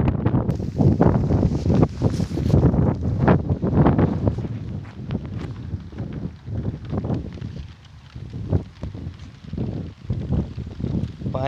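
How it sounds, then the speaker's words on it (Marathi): Strong wind blowing through trees, gusting in loud, uneven rushes and buffeting bursts that swell and ease over several seconds, close to the microphone. "इथं वारगी सुटलेली आहे"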